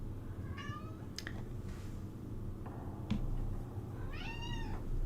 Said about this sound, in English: You hear this cat, honest to God.